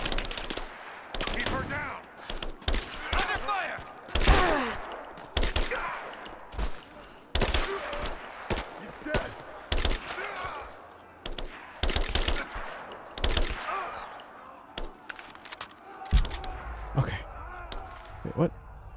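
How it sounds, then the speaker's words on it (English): Bursts of rapid gunfire crackle repeatedly over nearly twenty seconds in Rise of the Tomb Raider, mixed with sharp single shots and a voice talking intermittently. "I hear the gunfire, but I don't see none of them."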